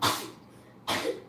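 Two sharp, breathy sneezes close by, the second following shortly after the first.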